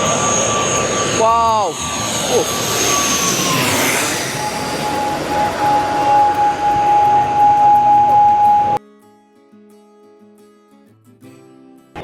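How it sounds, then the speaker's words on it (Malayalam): A fixed-wing airplane comes in to land at Taipei Songshan Airport, with a loud rising engine roar and a whine passing close overhead that then fades. Onlookers call out in excitement, and the sound cuts off near the end. "നമ്മൾ വന്നപ്പോൾ തന്നെ ഒരു ഫ്ലൈറ്റ് വരുന്നുണ്ട്"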